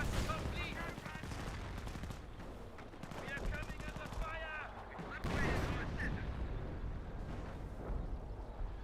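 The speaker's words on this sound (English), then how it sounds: "Artillery barrage back here." Artillery barrage in Company of Heroes, a dense, continuous roll of booming impacts and rattling gunfire at steady loudness, with a louder burst of blasts partway through.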